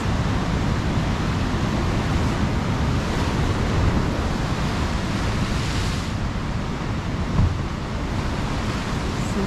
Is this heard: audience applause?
no